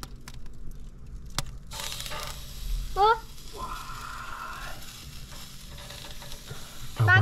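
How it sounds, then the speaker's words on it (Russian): Meat shank sizzling on a charcoal grill produces a steady, soft hiss with a few crackles, while a voice speaks briefly in the background. "Обожаю этот шип."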